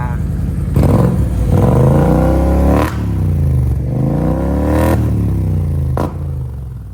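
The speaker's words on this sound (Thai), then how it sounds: "เดี๋ยวฟังเสียงเครื่องยนต์ดีกว่า" A 2013 BMW 650GT revs up close, its engine note climbing and falling through several throttle blips with brief dips between them.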